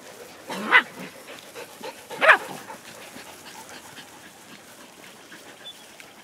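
A dog lying down on a property gives two short, sharp whimpering yelps about a second and a half apart, followed by quieter panting and soft low whines.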